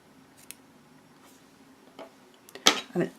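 Scissors snip through red yarn during crochet work, a few quick sharp cuts clustered near the end after soft faint handling sounds, close and alone.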